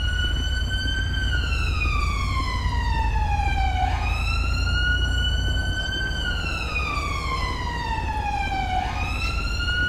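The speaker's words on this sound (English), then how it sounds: "those sirens are horrible" Police sirens in GTA 5 wail loud and close, rising and falling in long sweeping cycles over a low engine rumble, with no speech.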